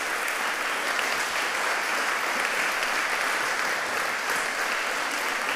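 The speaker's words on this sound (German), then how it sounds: "ich bitte um einen ordentlichen Applaus für dieses hochprofessionelle kleine" Lecture-hall audience giving sustained applause for a small research team at an inaugural lecture, a dense, even wash of many clapping hands throughout with no pauses.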